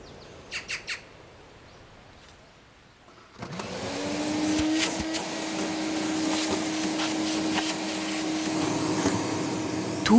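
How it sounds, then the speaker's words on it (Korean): A loud, steady vacuum cleaner motor drones close by for several seconds, cleaning the gaps between stones of a stone house, preceded by a few brief bird chirps in a quiet space. "돌과 돌 사이를 진공 청소기로 청소하는 진기한 풍경."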